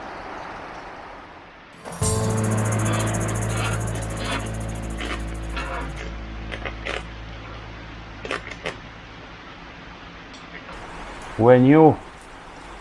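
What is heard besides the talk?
heavy rain falling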